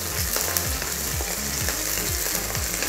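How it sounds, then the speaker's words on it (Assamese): Chopped onion, garlic and ginger sizzle in hot oil in a pan, a steady loud crackling fry with faint scraping of stirring and no voices. "পিঁয়াজখিনি অকণমান ৰঙচুৱা হোৱালৈকে ভাজিব লাগিব"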